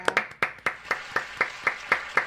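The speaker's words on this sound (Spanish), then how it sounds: "vamos a darle un fuerte aplauso a Moisés." A church audience claps together at a religious gathering: nine or ten sharp, evenly spaced hand claps, fairly close and fading slightly, with no talking over them.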